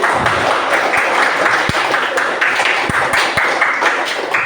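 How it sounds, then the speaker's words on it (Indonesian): Classroom students applaud a student group after its speech, a moderate, somewhat uneven patter of claps with a few sharper individual hits, no talk over it. "Tepuk tangan buat kelompok 10"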